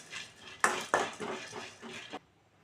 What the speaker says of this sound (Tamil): கிராம்பு ஏலக்காயெல்லாம் வறுக்கும்போது அடுத்த சிம்மில் வச்சுருவோம்